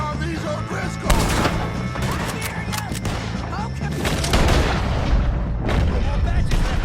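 Gunfire rings out during a shootout with O'Driscoll gang members in the video game Red Dead Redemption 2, with dense repeated shots and booms running throughout, loud and busy, mixed with shouting voices.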